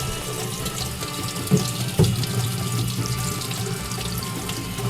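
Tap water runs steadily over a laser-etched metal piece coated in etching powder, a close, continuous splashing into a sink, with a couple of brief knocks as the piece shifts under the stream.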